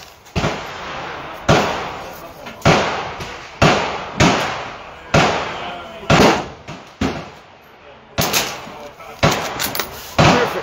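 Ruger Precision Rimfire rifle firing outdoors, about ten sharp cracks spaced roughly a second apart, each loud and close with a short decaying tail.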